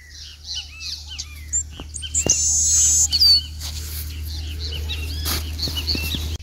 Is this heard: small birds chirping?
yes